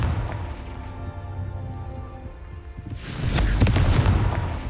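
A Confringo fire spell going off in Hogwarts Legacy, with a low rumbling build that gives way to a loud, crackling blast and a dense burst of debris noise.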